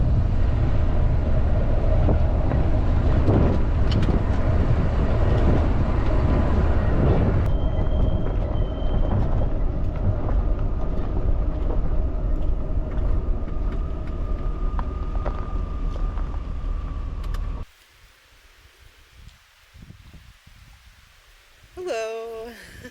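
A camper van drives away from a campsite in Alberta with a steady low engine and road rumble mixed with wind buffeting. After about seventeen seconds it cuts abruptly to a much quieter background with a few faint knocks.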